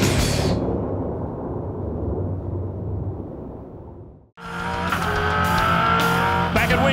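2010 Fujitsu V8 Supercar race cars at Winton Raceway roar past loudly and continuously. The sound cuts briefly, then returns as another burst of racing engine noise.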